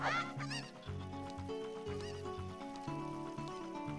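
A cucco chicken in The Legend of Zelda: Ocarina of Time clucks and squawks in a burst at the start, over continuous bright game music with a steady bass line.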